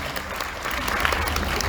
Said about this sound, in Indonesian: boleh berikan tepuk tangan untuk mereka berempat